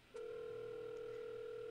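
Phone line tone while waiting for a call to connect in a video game, a click followed by a steady, unbroken electronic tone held at low volume.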